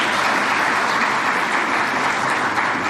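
Sustained applause from an audience at an inter-college speech competition final at a girls' college in Muzaffarabad, Azad Kashmir, a steady dense wash of clapping throughout with no pauses.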